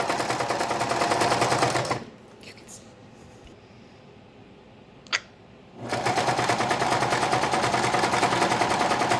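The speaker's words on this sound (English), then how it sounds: "I will sew the rest of the way around the mask" Sewing machine stitching around the edge of a homemade fabric face mask, a loud steady mechanical whir running for about two seconds, stopping for a quiet pause with a single click, then resuming just as loud and continuous.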